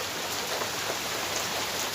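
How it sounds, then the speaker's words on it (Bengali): Heavy rain pours down in a dense, steady roar of drops hitting surfaces, constant and loud throughout. "প্রচণ্ড বৃষ্টি হচ্ছে সেই জন্য বৃষ্টির আওয়াজটা শোনা যাচ্ছে"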